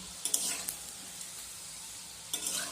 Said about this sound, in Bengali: এখানে আমি খুব গরম তেলের মধ্যে নিমকিগুলো ভাজার জন্য দিয়ে দিয়েছি